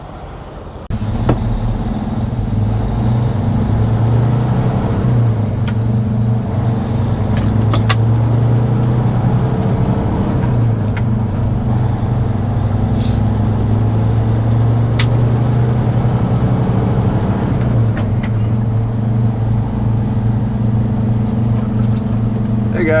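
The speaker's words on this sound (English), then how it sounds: "So we are picking up this Cat 325 from the Port of Baltimore, and we are hauling it about 550 miles down to Knoxville, Tennessee." A heavy haul truck leaving the Port of Baltimore, hauling a Cat 325 excavator at 106,000 lbs, drones with a steady, loud low engine and road rumble from start to finish, with a few sharp clicks and knocks above it.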